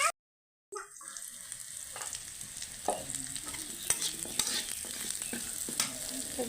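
Onions frying and being stirred in a pan, a steady close sizzle broken by a short pause near the start, then scraping stirs at irregular moments, with no talk.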